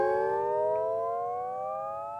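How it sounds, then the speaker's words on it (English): A sustained electronic tone from a guitar pedal glides slowly upward like a siren, steady and fairly loud, with no voices. "you can have like a kind of a long, like almost like a siren kind of sound"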